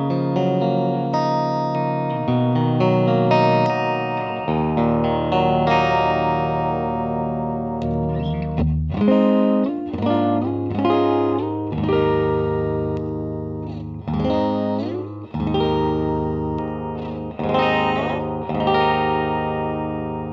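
A 2021 Gibson Les Paul Blood Moon in Satin Black Cherry plays sustained chords and then picked melodic phrases with a bright, single-coil-like tone through chorus and reverb effects, loud and alone.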